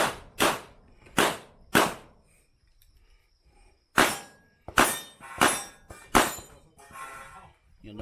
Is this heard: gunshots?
yes